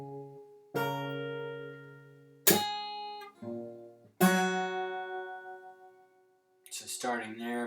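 Fingerstyle acoustic guitar playing a song intro: three ringing chord strums with struck attacks and plucked notes between them, close and clear, then a voice starts talking at the end.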